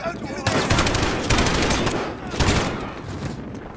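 Rapid automatic gunfire rattles in loud, dense bursts during Call of Duty: Modern Warfare combat, with voices speaking over the shooting.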